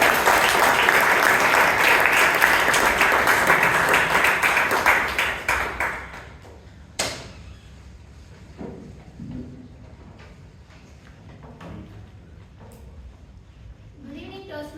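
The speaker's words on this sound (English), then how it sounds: "With a big round of applause, let's welcome table topic master Alagammai C." A Toastmasters club audience at a meeting in Bangalore gives a big round of applause, loud and dense for about six seconds, then tapering into scattered claps, knocks and room noise.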